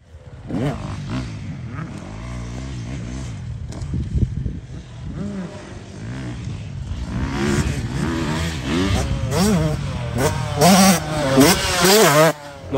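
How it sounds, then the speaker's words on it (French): A race motorcycle rides and revs at a supercross track, its engine rising and falling through repeated throttle bursts that grow louder and harsher toward the end, with some faint talk mixed in. "Et là Under il essaye la moto de course qui est censée être un peu plus puissante"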